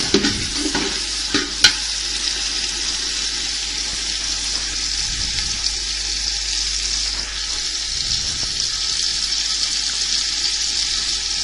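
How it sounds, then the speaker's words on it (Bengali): Spices and salt are stirred and sautéed in a pan for a quail roast, giving a steady close sizzle with scraping stir strokes and a few sharp utensil knocks near the start. "এখন ভালোভাবে আমি মশলাটাকে একটু কষিয়ে নেবো"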